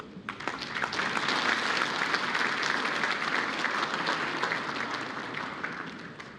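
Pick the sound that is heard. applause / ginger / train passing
applause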